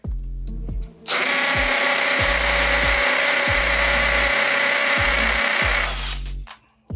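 A DeWALT DCD791 compact drill runs in hammer mode into wood, its motor whining loud and steady for several seconds with a rattling percussive buzz, bracketed by brief starts and stops.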